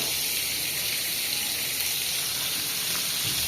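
Fish frying in hot oil in a home kitchen, a steady, dense sizzle that holds at an even level throughout, close by, with no talking.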